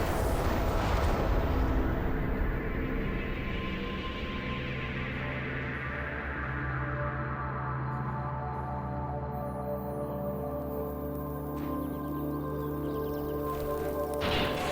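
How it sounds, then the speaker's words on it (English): In the final boss room of the Portal video game, a loud rumbling blast opens into a long, roaring collapse with a dense low hum and crashing debris, heavy and sustained throughout. "her and the room you're in begin to explode"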